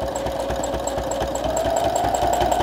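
A sewing machine running steadily with a free motion quilting foot, stitching continuously at an even pace in a fast, regular mechanical rhythm, close and fairly loud with no talking.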